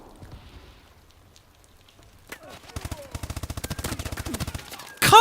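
Automatic gunfire in Call of Duty: Advanced Warfare comes as a rapid, loud burst of evenly spaced shots after a quiet stretch, followed by a sharp final blast.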